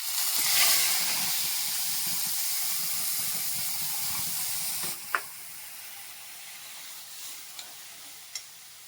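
A loud, hissing sizzle of a wet blended tomato and onion puree in a hot pan, then a sudden splat and quieter steady bubbling with a few sharp clinks.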